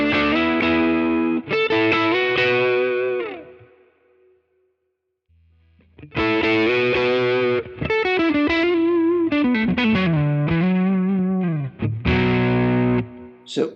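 Electric guitar through a Quad Cortex capture of a Tone King preamp, with driven chords and bending lead phrases, a brief silent gap early on, then steady sustained playing.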